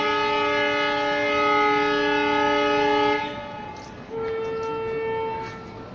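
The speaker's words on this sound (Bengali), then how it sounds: "ট্রেন কি আসছে" A passing train sounds a loud, sustained multi-tone horn chord for about three seconds, then a second shorter blast over rumbling rail noise.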